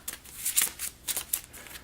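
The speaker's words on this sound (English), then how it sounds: "Shuffle these back in since they were unresolved." Several quick papery riffles and flicks of cards being shuffled during a Robinson Crusoe board game, close by and soft.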